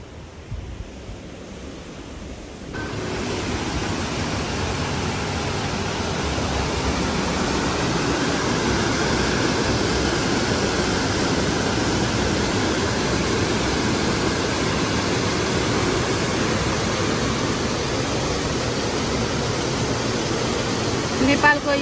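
A waterfall roars steadily on a jungle hike, a dense broadband rush that swells after a quieter opening and then stays loud and unbroken.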